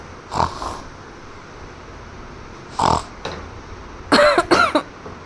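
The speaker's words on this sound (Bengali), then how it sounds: "নাক ডাকতে গিয়ে তো কাশি উঠে যায়।" Three short bursts of coughing or snorting from a person coughing while snoring, the last a rough double burst, over quiet room background.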